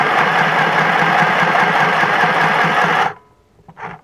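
A mini sewing machine runs with a steady, loud mechanical whir and rapid stitching rhythm for about three seconds, then stops abruptly, leaving near silence and one brief faint sound.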